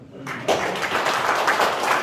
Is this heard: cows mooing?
no